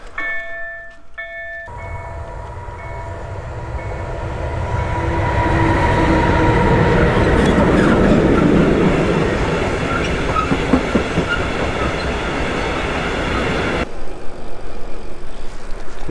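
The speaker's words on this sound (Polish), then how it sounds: "Jeszcze pociąg jedzie." A train rolls past, its rumble building from a distance to a loud, steady roar with rattling wheels, then cutting off abruptly; a few faint tones sound at the start.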